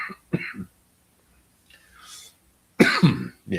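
Several short, harsh coughs from one person, close and fairly loud, come in uneven bursts with quiet gaps and a breathy rasp between them.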